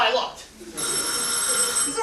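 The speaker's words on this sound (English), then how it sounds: "No, that's the phone, Ken." A telephone bell rings in a theater stage comedy, a bright sustained ring starting partway through, with actors talking over the start.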